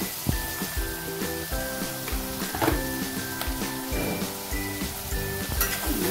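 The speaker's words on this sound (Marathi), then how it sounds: "हाय फ्लेम वरतीच भाज्यांना शिजवून घेऊया" Vegetables for fried rice sizzle steadily in a pan over a high gas flame, a loud continuous frying hiss with occasional clinks and scrapes of stirring throughout.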